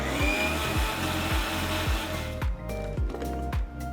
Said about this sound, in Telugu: దీనికోసం మిక్సీ జార్లో తరిగిన చిన్న అల్లం ముక్క, తరిగిన 2 పచ్చిమిరపకాయలు, కొన్ని కరివేపాకులు వేసి ముందుగా వీటిని రుబ్బుకోవాలి.